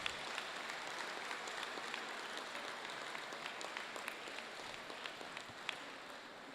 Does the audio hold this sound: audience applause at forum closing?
yes